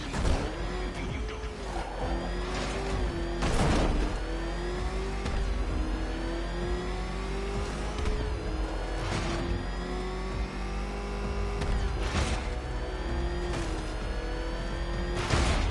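A car races around a track in a Batman Arkham video game, a steady engine drone that rises and falls with repeated revs and sharp bursts, loud and continuous with no talk.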